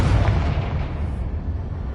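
A Confringo fire spell bursts in the Hogwarts Legacy video game, a loud, booming blast with a rumbling low tail that fades over about two seconds.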